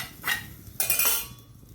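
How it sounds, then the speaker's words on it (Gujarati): Sautéed chickpeas are scraped from a pan into a pot, making two bursts of metal-on-metal clatter and scraping separated by a short pause. Quieter kitchen background fills the gaps. "તપેલીમાં કાઢી લઈશું."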